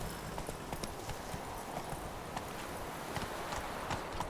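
Horse hooves trot in a steady clip-clop rhythm through The Witcher 3 video game, close and continuous for the whole stretch.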